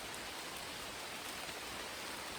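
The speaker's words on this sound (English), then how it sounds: "That's proper rain." Steady outdoor rainfall, a dense even hiss of drops hitting surfaces close around, constant and fairly loud with no voices.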